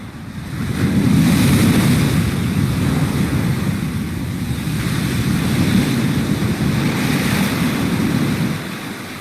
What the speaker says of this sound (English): Many will drown in the pounding waves.